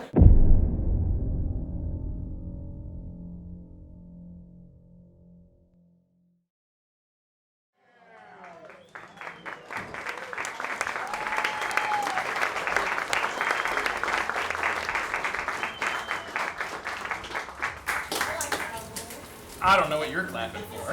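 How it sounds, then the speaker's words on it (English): Audience applause at a live comedy show swells after a quiet gap, a dense sustained clatter of many hands filling the room for over ten seconds, preceded by a burst of laughter and loud crowd noise. "I don't know what you're clapping for."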